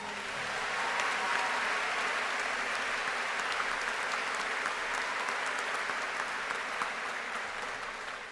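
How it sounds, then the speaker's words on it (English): A large Germantown High School graduation audience claps for a student being honored, producing a steady, diffuse roar of applause heard from a distance that fades slightly near the end. "A round of applause for Allison Wink."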